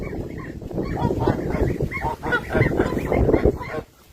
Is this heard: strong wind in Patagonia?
no